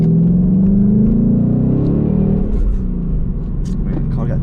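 A Ford Mustang GT engine drones low and close, rumbling steadily and then easing off as the car drives on along wet roads.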